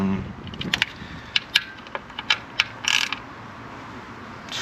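A ratchet wrench tightening the mirror bolts on a Honda Civic, a series of quick clicking ratchet strokes in short bursts, close and moderately quiet.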